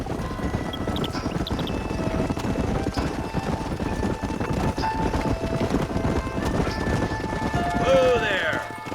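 Rapid hoofbeats of horses galloping in the video game Red Dead Redemption, a steady clatter throughout, with a brief whinny-like tone near the end.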